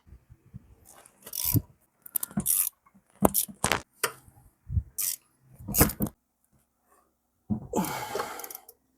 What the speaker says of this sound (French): après on va serrer à la clé